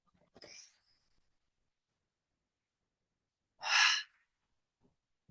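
A single deep inhalation during a breathwork exercise, a brief breathy intake close to the microphone in an otherwise silent room, preceded by a short faint breath.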